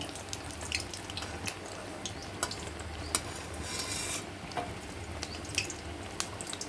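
Pointed gourd pakoras fry in hot oil with a steady, soft sizzle, punctuated by scattered sharp clicks and taps of a utensil in the pan.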